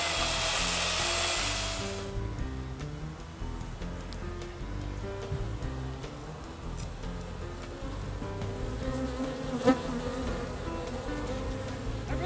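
Honeybees buzz steadily and loudly while being sucked out of a tree hive with a homemade bee vacuum hooked to a shop vac, opening with a rushing burst of airflow and then a dense, continuous drone.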